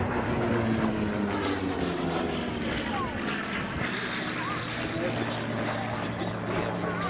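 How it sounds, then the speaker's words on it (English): A Bearcat propeller fighter flying at the Duxford air show, a loud continuous engine drone with a throbbing propeller hum and wind buffeting, steady and close, while a commentator talks throughout. "you could get airborne from a carrier in a Bearcat"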